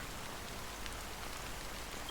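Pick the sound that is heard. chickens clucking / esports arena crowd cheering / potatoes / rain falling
rain falling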